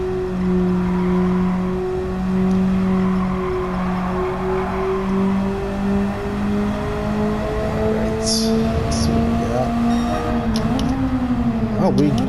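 A car lapping a race track in Gran Turismo 7 on comfort medium tires, its engine holding a steady droning tone that slowly rises in pitch, with brief squeal-like bursts near the end and talk over it.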